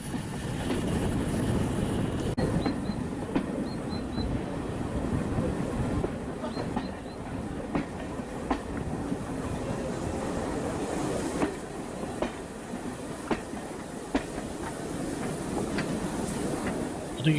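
A train rumbles steadily along the rails, heard from inside a carriage at a steam gala, with a constant low roar, faint clicks over the track joints and occasional light squeals.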